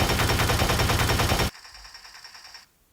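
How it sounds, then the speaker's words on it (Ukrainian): Rapid, loud burst of cannon fire from a video game, a dense stream of shots for about a second and a half, then a fading electronic tail. "ви маєте нажати і послухати, як пушка буде стріляти"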